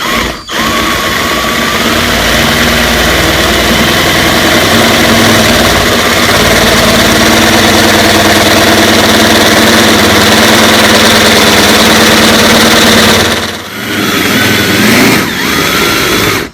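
A power drill grinds steadily into metal while fitting a roof rack, its motor droning loudly with brief pauses near the end.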